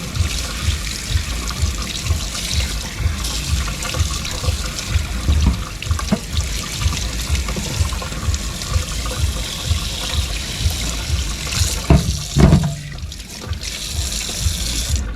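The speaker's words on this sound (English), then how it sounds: "So I just try to run warm water." Warm water runs steadily from a tap during cleaning, a continuous close splashing rush that lasts throughout, with a brief louder gush near the end.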